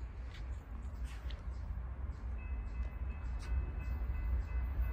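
A Norfolk Southern intermodal freight train rolls past at steady distance, a continuous low rumble with faint wheel noise and a thin sustained tone, no talk over it.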